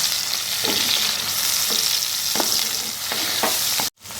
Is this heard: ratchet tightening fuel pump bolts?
no